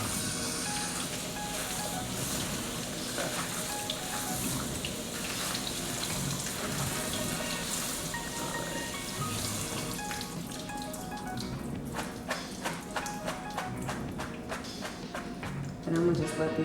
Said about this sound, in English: I'm doing this out of a strainer just so that I can get the water off